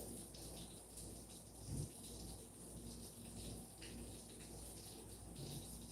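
Steady rain falls as a soft, continuous hiss close by, with faint low rumbles underneath and no talking.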